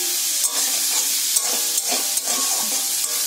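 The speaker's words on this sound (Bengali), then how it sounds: "তেল গরম হয়ে গেছে, এটাকে ছাপিয়ে দিয়েছি, পেঁয়াজ ছাপিয়ে দিয়েছি। তো পেঁয়াজটা ভাজা হোক" Onions fry in hot oil with a constant bright sizzle, broken by soft stirring scrapes and small spits at irregular intervals, close and steady with no talk.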